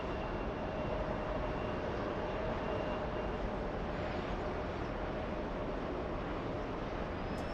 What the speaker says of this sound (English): American 105, the one from London, a big 777-300 ER, landing on the departure runway, 31 left.